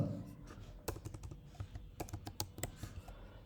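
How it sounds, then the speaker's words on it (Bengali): Keys clacking on a computer keyboard as a customer name is typed into pharmacy billing software, an uneven run of close, crisp keystrokes with a few louder presses and no voices. "আমি একটা কাস্টমারের নাম দিয়ে দিচ্ছি আজাদ"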